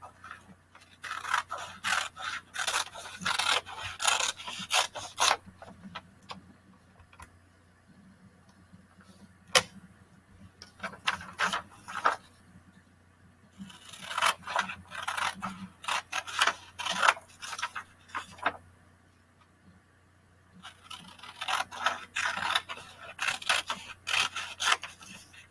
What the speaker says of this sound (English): We're going to cut around the outside first.